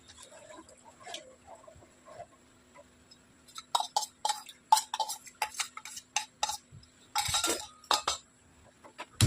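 A spoon stirring an orange halwa mixture in a pan as cornflour water is added, giving scattered scraping and clinking strokes that grow louder and come in quick clustered bursts toward the end.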